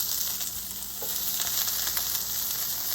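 Salmon sizzles and browns in a frying pan, a steady, loud, continuous frying crackle with no talking.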